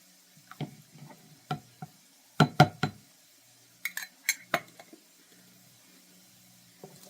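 Tomato sauce and broth combined in a small bowl, sparse clinks of a utensil and containers tapping against dishware in short clustered bursts separated by quiet gaps, close and fairly soft.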